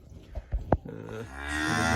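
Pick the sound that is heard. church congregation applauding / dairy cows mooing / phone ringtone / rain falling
dairy cows mooing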